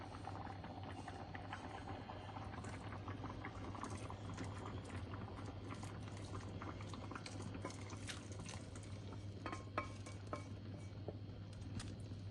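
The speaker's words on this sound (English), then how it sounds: "now it can just boil away" A pot of food boils steadily on the stove, a constant low bubbling simmer with small pops and faint clicks throughout, fairly quiet and close, with no talking.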